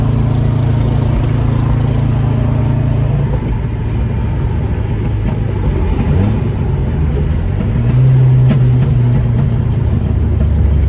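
A Nissan Sunny pickup truck with a loud exhaust cruises near its top speed, the engine droning and rumbling steadily from inside the cab, with a deeper rise in revs toward the end.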